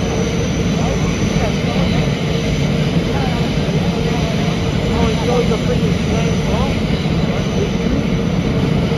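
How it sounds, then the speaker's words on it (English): A loud, steady roar of an airplane engine fills the whole stretch, with brief chirps and voices faintly beneath it. "Oh, it's a freaking plane."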